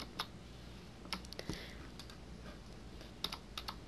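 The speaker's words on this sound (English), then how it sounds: "If you make a mistake, like this, on your keyboard, you press Control Z at the same time." Computer keyboard keys clack in short irregular bursts of a few presses each, close and fairly quiet, during digital art work in Photoshop.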